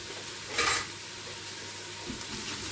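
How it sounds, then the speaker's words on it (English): Onions and peppers frying in a pan, a close, steady sizzle with a brief burst of stirring clatter near the start and soft utensil scrapes later, no voices. "Throwing in my onions to start with and the peppers, because I just want to get those started in the cooking process"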